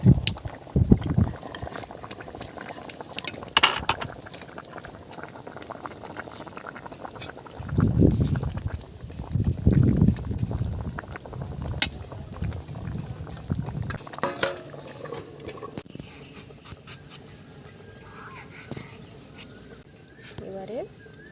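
Fish curry bubbles and simmers in a pot, with bursts of louder boiling, occasional utensil clinks, and a person talking intermittently.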